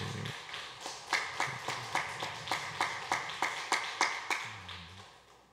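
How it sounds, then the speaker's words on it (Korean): Slow, rhythmic clapping at a Korean church Wednesday prayer service, about a dozen evenly spaced claps from a small group, moderately close, with a brief low voice at the start and end. "권영만 집사님 박수로 모시겠습니다."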